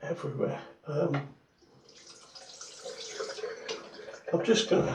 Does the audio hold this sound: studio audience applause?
no